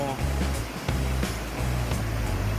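Waves wash around an NQD remote-control electric surfboard boat on open water, a steady broadband rush with surging swells and a low motor hum running underneath.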